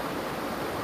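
Clean, clear water of the Sungai Betung Kuning upstream river rushes steadily in a close, even wash of noise, with no voices over it.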